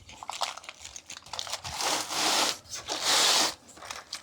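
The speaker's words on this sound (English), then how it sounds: "Wrap it nicely around. I want to use the foil to catch all those juices." Aluminium foil being wrapped around a smoked brisket, crinkling and rubbing in close bursts that swell louder near the end, with no talk.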